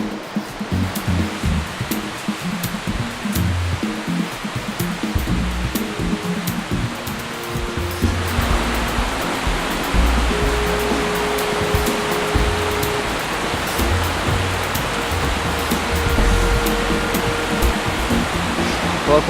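A river in Michigan's Upper Peninsula rushing steadily along a hiking trail, a dense, loud and continuous wash of moving water that swells slightly partway through, with no voices.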